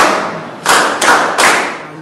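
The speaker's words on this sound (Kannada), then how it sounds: "ಹೂಗುಚ್ಛವನ್ನ ನೀಡಿ ಚಪ್ಪಾಳೆಯನ್ನ ತಟ್ಟಿ ಬಿಡುಗಡೆ ಮಾಡಲಾಯಿತು" Doctors clap to send off recovered coronavirus patients at a hospital, with three short bursts of applause sounding close and somewhat muffled.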